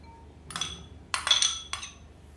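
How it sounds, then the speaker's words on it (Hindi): Small pieces of boiled chicken added into a bowl, with three light, close clinks and rattles as the pieces and utensil hit the dish in a quiet kitchen. "तो बाउल के अंदर पहले चिकन डालेंगे।"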